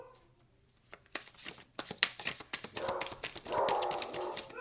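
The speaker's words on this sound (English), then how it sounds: "Sorry about my dogs. I'm not going to stop even though they're barking." Dogs bark in quick, irregular bursts, several yips and woofs overlapping, fairly close, after a quiet start.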